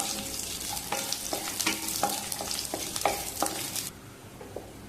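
Curry leaves, dried red chillies and chopped garlic fry in a pan with a steady sizzle while a utensil scrapes and stirs in a series of quick clinking strokes, close and alone.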